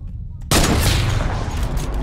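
Gunfire in the video game Fortnite, a sudden loud blast after a quiet moment that rolls into a sustained noisy roar.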